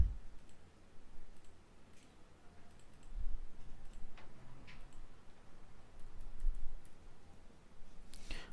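Soft, sparse computer mouse clicks sound at irregular intervals while working in QuickBooks accounting software, faint and close against a quiet room.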